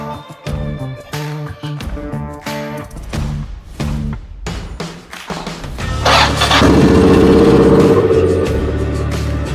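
A Yamaha XT600 motorcycle engine runs at a low idle after a carburetor cleaning, a steady loud thumping hum that grows fuller and busier in the last few seconds, with no talking.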